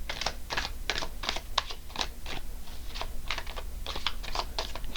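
Tarot cards shuffled by hand in a steady run of quick, crisp riffling snaps and flutters, close and fairly loud, continuing for several seconds with no talking.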